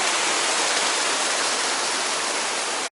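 Water from a small stream tributary pours through a little culvert onto a path, a loud, steady rushing hiss up close that cuts off abruptly.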